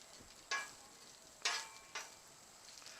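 Red onions and green peppers hit a Blackstone griddle that is not yet fully hot, giving a few quiet bursts of sizzle over a faint steady frying hiss.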